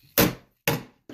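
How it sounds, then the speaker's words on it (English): A chisel chopping into the groove of a wooden window sash, two sharp, close woody thunks about half a second apart, with the start of a third at the end. "chop up close to it, put the chisel right in that groove"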